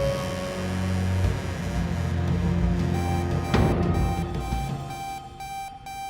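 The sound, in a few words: loud beep noise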